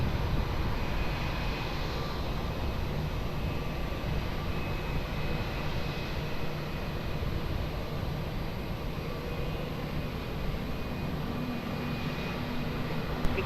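Steady broadband roar of an airliner landing on runway 20 at Lisbon Airport, Portugal, heard from a distance as a continuous rumble with no talk.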